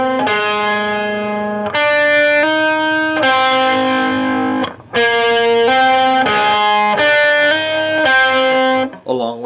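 Overdubbed electric guitar part from a 1970s hard rock track, sustained harmonic-rich notes changing every second or so in a steady phrase, loud and continuous with no talking.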